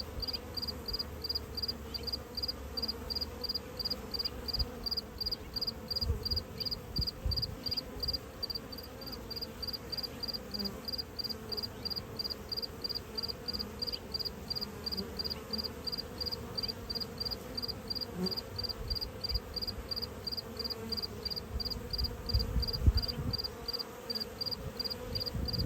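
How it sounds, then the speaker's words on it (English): A cricket chirping near beehives, a rapid, regular train of high-pitched pulses repeating throughout, close by over a low background hum of insects and outdoor ambience. "But that's a noisy cricket."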